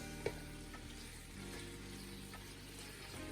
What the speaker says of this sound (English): So now the beef is going to go in with the aromatics.